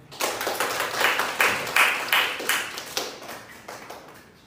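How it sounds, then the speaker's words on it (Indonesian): A class claps hands together during a high school mathematics microteaching lesson, a roughly regular beat of group claps that swells early and then gradually tapers off. "tepuk tangan dulu untuk semuanya"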